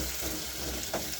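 Potatoes frying with onions in a pan, a faint, soft sizzle running steadily with a couple of brief louder crackles near the end.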